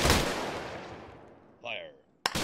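A single loud rifle volley from an honor guard at a military memorial salute, a sharp crack decaying into a long echoing tail, followed by a short vocal call and the abrupt start of another shot.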